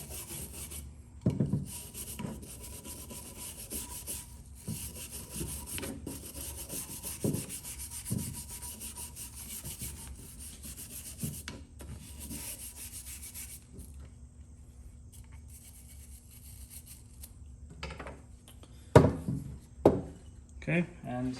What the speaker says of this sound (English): take a wire brush and just brush off any loose rust that we can